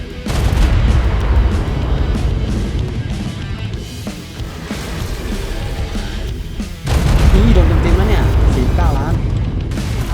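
Grenade explosions and gunfire in the video game ARK, sounding as a dense, loud, continuous barrage of booms and shots that briefly dips and then surges again, with talk mixed into the din.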